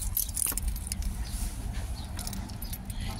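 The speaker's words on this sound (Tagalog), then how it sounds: "Ilagay ko yung susi." Car keys jangle near the ignition of a 2005 Nissan Altima with a hard-start fault, a loose metallic rattle over a steady low rumble, with no talk.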